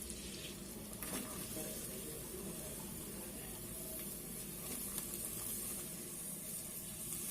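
Kasuri methi and onion sizzle steadily in a pan of hot oil for pav bhaji, a continuous close, moderately loud frying hiss with no talk.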